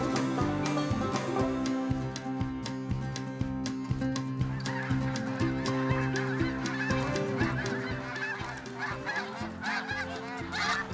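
A large flock of snow geese honks continuously during a morning hunt, dense overlapping calls both near and farther off, loud and unbroken with no talking.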